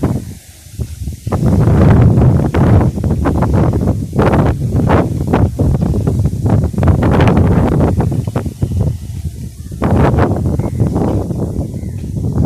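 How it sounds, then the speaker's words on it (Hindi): Wind gusting across a village rooftop, a steady loud roar of microphone buffeting and rustle that lasts throughout, rising and falling slightly with no voices. "हवा बड़ी प्यारी चल रही है छत पे"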